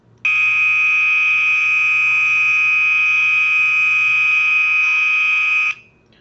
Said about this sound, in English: When a fire or emergency happens, you will hear the following emergency tone.